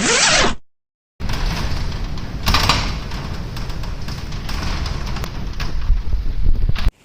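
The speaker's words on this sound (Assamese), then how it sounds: "এই খিৰিকীবিলাক হিলি থাকে আকৌ এনেকৈ ঘডং ঘডংকৈ বাহিৰত বহুত ডাঙৰ বৰষুণ বতাহ" Windows rattle and shake in strong wind and heavy rain in Guwahati, a steady roaring, clattering noise with occasional louder gusts after a short silent break near the start.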